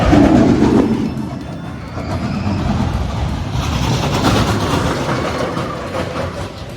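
The Nessie roller coaster at Hansa Park rumbles past with a steady clatter of rails and rolling wheels. The roar is loud and close, swelling and fading over several seconds.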